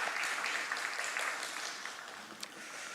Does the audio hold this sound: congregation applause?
yes